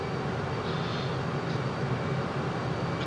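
Su-57 Felon fighter jet in Microsoft Flight Simulator making an air-show pass over the runway at Mallacoota Airport, Australia, a steady broadband engine roar held at constant loudness throughout, no voices.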